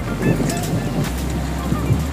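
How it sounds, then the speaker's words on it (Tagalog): Strong wind buffets the microphone with a steady low roar on the Manila bayfront near Baseco and Dolomite Beach, with lapping water and faint voices in the background. "So malakas ang hangin."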